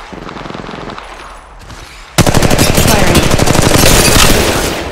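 Apex Legends Mobile automatic gunfire, at first quieter and steady, then a sudden loud close burst of rapid shots that rattles on continuously to the end.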